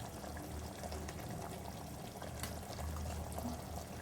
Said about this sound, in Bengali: 3 চামচ ঘি দিলাম।